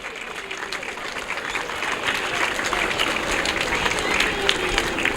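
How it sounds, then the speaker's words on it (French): Audience applause at a school hygiene event, a dense rolling clapping that swells and holds steady at close range, with voices faintly mixed in. "Est-ce qu'on peut encore acclamer?"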